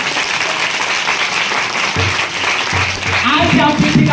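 A church congregation at a Sunday gathering claps loudly and continuously while a voice speaks over it, and the voice grows louder toward the end.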